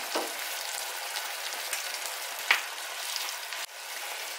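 Mushrooms fry with a splash of soy sauce and oloroso wine, making a steady hiss of sizzling. A sharp pop breaks through midway, and the sizzle drops in level briefly toward the end.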